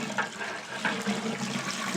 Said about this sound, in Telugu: సో 7 లీటర్లు వాటర్ పోసుకోవాలి.